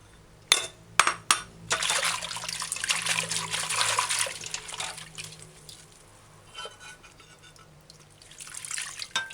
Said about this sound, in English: Use your hand with your fingers and kind of wash the cauliflower florets properly.